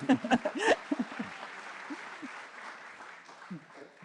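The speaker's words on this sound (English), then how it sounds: "Can we also clap for our candidates who all stood up for each other?" A forum audience briefly claps for the gubernatorial candidates. A few loud claps come at the start, then sparser, fading clapping with light crowd murmur.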